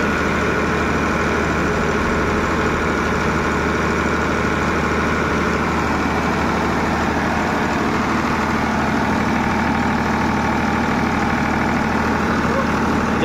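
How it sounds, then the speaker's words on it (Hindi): A Farmtrac 50 tractor's diesel engine idles steadily nearby, a continuous low, even rumble with a faint mechanical hum that holds at the same level throughout. "इसको 6 मिनट पर बंद कर देंगे ट्रैक्टर को।"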